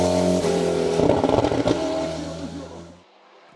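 Alpine A110 Evo rally car engine in the GTTS 3 class at the Saint-Gouëno meeting, loud revving with a rising and falling pitch that ends abruptly as the car passes.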